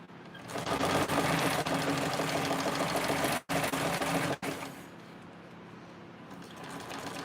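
A TrailBlazer sewing machine runs in a close, steady mechanical chatter while stitching, cutting out abruptly twice in short pauses, then trailing off into quieter whirring.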